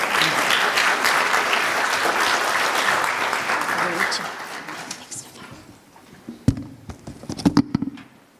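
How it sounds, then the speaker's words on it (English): An audience at a school assembly claps loudly and steadily for several seconds, then the applause thins out to a few scattered claps near the end. "Yes, please give them a round of applause."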